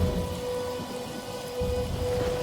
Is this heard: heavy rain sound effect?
yes